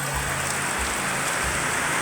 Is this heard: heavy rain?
yes